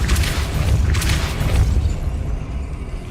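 A Depulso force spell cast in Hogwarts Legacy lands as a loud, booming blast with bursts of energy, then rumbles and fades into a lower, steadier roar.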